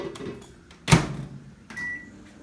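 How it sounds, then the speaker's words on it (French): Microwave oven heating cassava, with a sharp clunk of the door or a button press, then a steady low hum and a short tone as the oven runs. "Je vais le mettre au micro-ondes."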